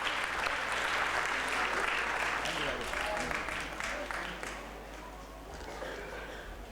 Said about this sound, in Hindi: तो ज़ोरदार तालियों से स्वागत कीजिए।